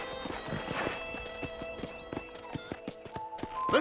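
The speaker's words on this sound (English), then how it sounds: "I picked out a fine horse for you." Horse hooves clip-clop in the Xbox 360 game Red Dead Redemption on a ranch, a steady run of close, crisp hoof strikes with occasional whinnies layered over ambient game sound.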